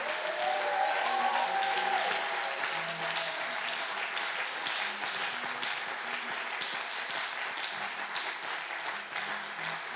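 Congregation at a church event applauding and cheering, a dense sustained wash of clapping from a large crowd with a few raised voices, steady and full for the whole stretch.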